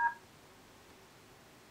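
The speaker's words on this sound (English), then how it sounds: "This is only for demonstration purposes so that you can hear the dial tones." DTMF keypad tones from a phone set to speakerphone while dialing star codes to a GSM relay controller: one short dual tone right at the start, then only a quiet line hiss.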